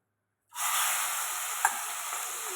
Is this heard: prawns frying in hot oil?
yes